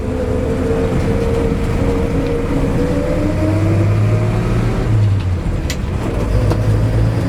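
A 1953 Chevy 3100 pickup's small six-cylinder engine rises and falls through steady revs, heard close and continuous from inside the cab with a low droning tone.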